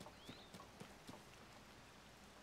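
Steady rain in the video game Zelda: Tears of the Kingdom patters on a surface, a soft continuous hiss with a few scattered sharper drops, fairly quiet and even throughout.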